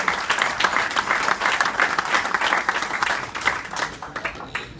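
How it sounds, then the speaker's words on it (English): A wedding crowd breaks into a round of applause, dense sustained clapping from many hands that carries on steadily, with a few faint cheers mixed in. "Let's give everyone a round of applause for the great job"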